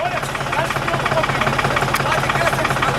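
A tractor engine runs steadily with a low, rumbling idle and rhythmic knocking pulse outdoors, continuous and close, with a voice talking over it.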